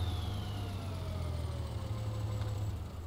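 A tractor engine in Farming Simulator 2013 idles steadily with a low, constant hum and drone, continuous and moderately loud with no talk.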